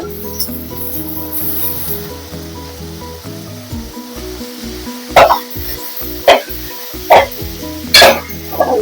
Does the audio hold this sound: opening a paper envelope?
no